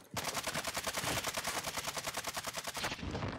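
Sustained rapid automatic gunfire in Warzone 2 multiplayer, dense and loud with a fast steady rhythm of shots for about three seconds before cutting off.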